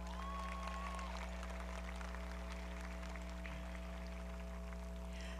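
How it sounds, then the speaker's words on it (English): Graduates applaud together at the 2015 Clear Springs high school graduation ceremony, a steady, distant wash of crowd clapping that stays faint beneath a constant electrical hum. "Give yourselves a round of applause."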